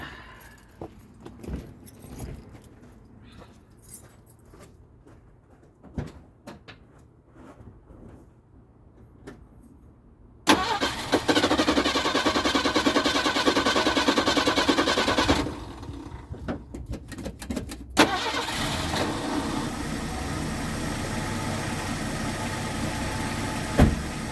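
Keys jingle and rattle for about ten seconds, then a 1982 Ford Mustang engine cranks and catches into a loud, rough idle. It dips briefly before roaring steadily again, with no one talking.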